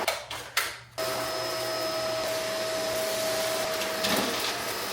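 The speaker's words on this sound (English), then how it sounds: "There's just something about a good wired vacuum." A corded vacuum cleaner runs indoors at night, kicking in after a few brief knocks and then holding a loud, steady whirring drone with a thin whine on top.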